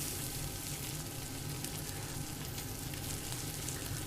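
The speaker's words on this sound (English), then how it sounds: "Look at it sizzling." Faint, steady sizzling hiss of bread toasting on a hot grill in the virtual reality game VRChat, continuous and even throughout with no voices.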